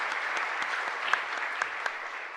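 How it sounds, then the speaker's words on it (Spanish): Church congregation at a parish service giving a warm applause, a steady, moderately quiet wash of many hands with a few sharper claps standing out. "a ellos también le agradecemos con un fuerte aplauso"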